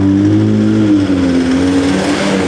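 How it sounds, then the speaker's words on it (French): A heavily tuned rally-style car idles and revs in a street, its loud, close engine droning with a steady low tone that dips slightly as the revs settle. "Là il y a un vieux, il est au volant d'une voiture genre giga tunée et tout."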